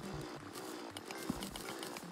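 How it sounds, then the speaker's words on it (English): A mining drill in the video game Terraria, a buzzing motorized whine with a stuttering rhythm and one sharp spike near the middle, heard at low level alone. "I must say, I don't like the noise that this drill makes"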